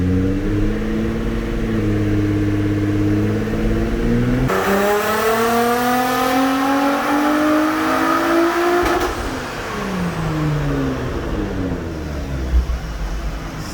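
A Nissan GT-R Nismo on a 91-octane tune revs hard on a test run, its engine note sweeping steadily upward in a loud sustained pull, then dropping away and settling back to a lower drone.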